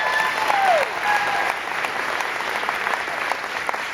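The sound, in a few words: audience applause at a hypnotist show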